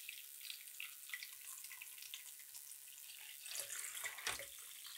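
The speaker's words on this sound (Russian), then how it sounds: "Вот, насос заработал. Вот у нас качает воду." An electric water pump runs controlled by a liquid level sensor, a soft continuous hiss of flowing water with faint splashing and a brief louder surge near the end, quiet and without speech.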